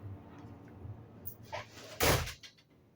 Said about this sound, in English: Let me close this door so I don't hear this airplane flying on my head